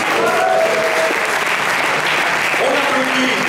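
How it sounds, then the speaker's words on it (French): Audience at a French slam poetry semifinal breaks into loud, dense applause that fills the room throughout, with a host's voice and some tonal sounds showing faintly over the clapping. "On applaudit."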